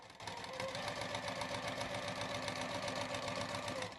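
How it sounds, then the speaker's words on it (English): A sewing machine stitches a quarter-inch seam at a shortened stitch length of 2, a steady close, rapid mechanical whir and clatter running continuously without talk. "I'm going to start on the very edge again and sew along until I get down to the bottom."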